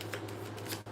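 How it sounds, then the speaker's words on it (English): A deck of cards being shuffled close by, a quick papery riffle of soft bursts over a steady low hum, with no voices. "I heard one more shuffle"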